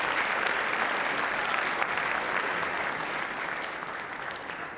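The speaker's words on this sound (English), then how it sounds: "Let's give her a big round of applause, please." A convention audience gives a speaker a big round of applause, with dense, steady clapping from a large indoor crowd that slowly tapers.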